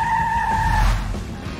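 A toy car skids across a floor, giving a loud tire-squeal screech with a high whine that fades within about a second over steady rumbling background noise.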